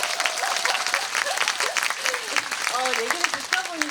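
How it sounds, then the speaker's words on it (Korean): An audience at a film festival talk bursts into sustained applause, dense clapping from a full room throughout, loud and close, with a few voices calling out over it. "박수 부탁드립니다"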